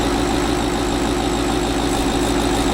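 A 2018 Ford Mustang GT V8 idles steadily at close range, just after an intake manifold install and with its check engine light on, giving a dense, even rumble with no voices over it.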